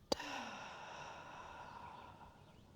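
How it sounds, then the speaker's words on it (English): A deep, breathy exhale out through the mouth during a slow yoga flow, one long, soft, airy breath that trails off gradually, close and quiet, following a brief sharp click at the start. "exhaling everything out through the mouth"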